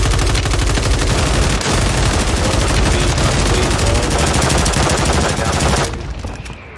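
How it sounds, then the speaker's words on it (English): Dense rapid gunfire from a video game shooter blasts loud and continuous for about six seconds, then cuts off abruptly into quieter fading sound, with a player's voice faintly mixed in. "That's a sniper."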